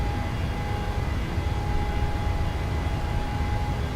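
An airliner's engines roar at takeoff power in Microsoft Flight Simulator, a steady, dense, unbroken rumble with a thin whine on top that holds constant throughout.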